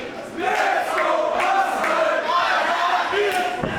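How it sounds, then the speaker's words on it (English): A wrestling crowd at a GWF Rising Heat 2022 show reacts with loud, mixed shouting and cheering that swells early and holds, voices overlapping in a continuous roar. "Listen to that reaction from the crowd."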